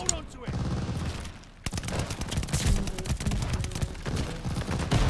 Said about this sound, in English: It sounds like being in a shooting range.